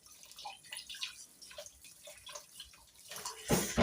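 Hot water runs and drips while raw chicken is rinsed and cleaned, a soft uneven splashing that swells into a louder gush at the end.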